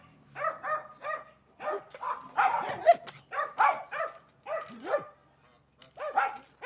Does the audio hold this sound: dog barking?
yes